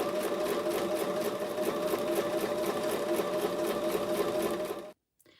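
A sewing machine stitches a quarter-inch seam on a quilt block, a steady loud mechanical whir with rapid regular needle strokes that runs continuously and then stops abruptly near the end.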